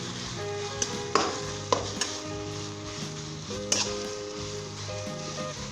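Shredded chicken frying over high flame for lachha murgh, with a continuous sizzle and a few sharp clinks and scrapes of a spatula stirring it, close by and with no talking.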